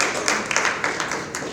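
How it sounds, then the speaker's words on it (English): An audience claps for a speaker coming forward at a community gathering, a short patter of scattered hand claps from a small crowd that fades out within moments. "We can give her a hand clap as she comes forward."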